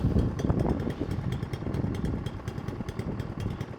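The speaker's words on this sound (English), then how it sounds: "Sounds like a little vintage engine going off." A Mountfield SP454 lawnmower petrol engine, with a hunting and surging fault, runs close up with a fast, uneven chugging rhythm, steady and fairly loud throughout with no voices.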